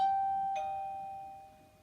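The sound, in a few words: doorbell ringing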